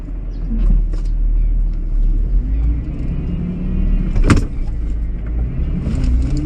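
Car engine held at constant throttle in second gear while driving on deflated tires through sand on Fraser Island, a steady low rumble close by from the cabin with a brief knock midway and no talk.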